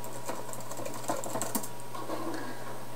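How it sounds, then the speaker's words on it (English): A password is typed on a computer keyboard of a Hackintosh Mac. Faint, irregular key clicks patter over a steady low background hum. "You're gonna type in your password."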